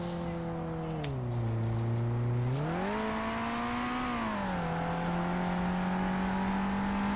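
Car engine revving at a standstill with the parking brake on in BeamNG.drive, a steady loud drone that climbs and dips in pitch as the throttle rises and falls, with no talk.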